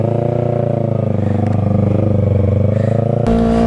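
A motorcycle engine runs close by, a loud steady idling rumble with a slight rise in revs before a brief clunk near the end.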